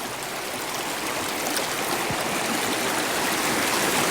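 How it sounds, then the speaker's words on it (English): A shallow woodland brook with a dropped water level flows in a steady, continuous rush and babble, close and alone, with no voices. "The brook level of water has dropped dramatically."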